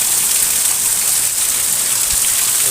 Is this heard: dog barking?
no